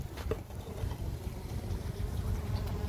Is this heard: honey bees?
yes